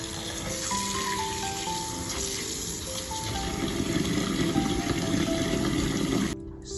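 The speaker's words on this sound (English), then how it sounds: "add water and soak it." Water runs steadily from a tap onto black-eyed peas in a container to soak, its pitch shifting slightly as it fills, then growing louder and fuller before stopping abruptly.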